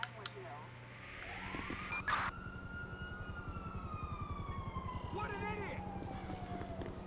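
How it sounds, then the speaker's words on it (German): Wailing police sirens and a police helicopter in the GTA V video game rise and fall over a steady rhythmic rotor-like pulsing, mid-distance and moderately loud throughout. "Scheiße, jetzt kommen die mit dem Heli."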